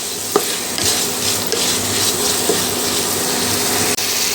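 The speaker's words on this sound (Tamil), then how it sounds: "தக்காளி பழம் வதங்கட்டும்." Tomatoes with salt sauté in a pan for a traditional finger millet chutney, a soft continuous sizzle with occasional stirring scrapes and light clinks, close and steady with no talk.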